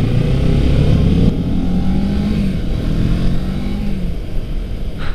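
A Kawasaki Ninja 650R parallel-twin sport bike roars steadily under load as it accelerates on a California road, engine rumble loud and close with wind rush from a helmet camera, no talk.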